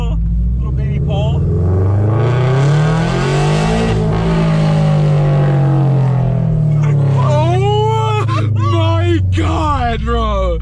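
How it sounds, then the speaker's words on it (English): A loud Toyota GR86 exhaust with catless unequal-length headers booming as the engine accelerates, pitch rising and falling through a pull, with excited voices talking near the end. "how it sounds with the new headers installed onto the car"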